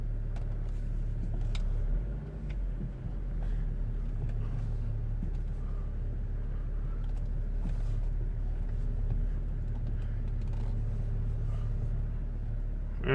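A BMW X5 E53 driving along toward a main road, heard from inside as a steady low engine and road rumble with a continuous drone and no speech.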